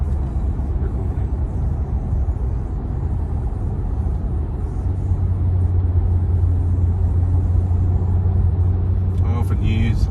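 Cabin of a twin-turbo Kia Stinger on the road around Wollongong, a steady low engine and tyre rumble that deepens into a firmer drone halfway through, with no talk.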